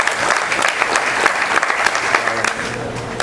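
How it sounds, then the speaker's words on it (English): A men's retreat audience breaks into applause, a dense, steady wash of many hands clapping at once, sustained and fairly loud from start to finish. "please give them a round of applause"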